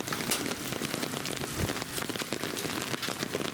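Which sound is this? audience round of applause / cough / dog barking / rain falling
rain falling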